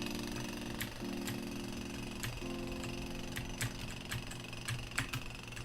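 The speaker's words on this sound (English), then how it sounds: "I kind of like that jackhammer background effect just as a way of like messing with the player" Jackhammer-like rumble running as a constant backdrop in an indie game jam entry, with a steady low drone and repeated sharp taps or pecks scattered over it.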